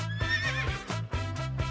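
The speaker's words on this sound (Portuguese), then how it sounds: "Ele vestiu Mordecai, ajoelhou-se para que Mordecai subisse no cavalo" Horse sound effect: a loud, close whinny rising and falling over a steady clip-clop of hooves beating in a regular rhythm.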